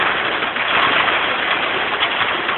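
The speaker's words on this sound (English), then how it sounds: "And now it's raining like hell. And it's actually hailing." Heavy rain with hail at an off-grid homestead makes a dense, even hiss across a brief stretch. No one talks.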